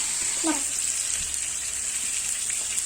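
Chicken pieces fry in a pan for tikka biryani, a continuous fizzing sizzle with occasional small pops and crackles, steady and close throughout.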